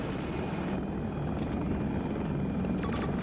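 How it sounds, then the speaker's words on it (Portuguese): An enemy helicopter in the Battlefield 2042 video game drones with a continuous loud rotor rumble, with a few brief higher-pitched game effects cutting in over it. "Contato! Helicóptero inimigo!"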